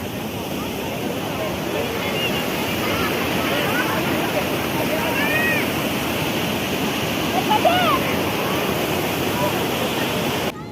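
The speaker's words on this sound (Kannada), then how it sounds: "ಈಗ ಒಂದು ಫಾಲ್ಸ್ ರಿವೀಲ್ ಮಾಡ್ತೀವಿ" Water pours over the overflow of Kunigal lake in a steady, loud, close roar, with a few faint bird chirps above it.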